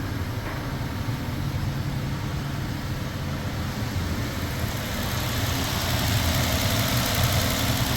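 A car engine idles smoothly and steadily with no misfire, a constant low rumble and hum that holds for the whole stretch with no voices.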